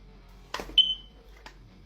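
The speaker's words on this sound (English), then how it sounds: "Have you ever thought about how we came to associate the beep of a dying fire alarm with being broke?" A single short high chirp from a dying smoke detector with a low battery rings out once, briefly trailing off, with a few faint clicks and rustles around it in an otherwise quiet room.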